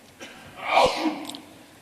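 A single sneeze from an audience member during a security conference talk on vulnerability discovery in encrypted closed-source PHP applications, sharp and fairly close, rising abruptly in the middle of an otherwise quiet room.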